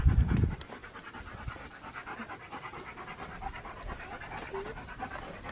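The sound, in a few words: dog panting behind the speaker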